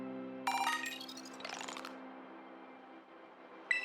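Phone notification chime from the video game Pokemon Scarlet/Violet: a short bright two-part jingle, then a second rising sweep, and a brief tone at the end, moderately quiet over a soft steady background hum.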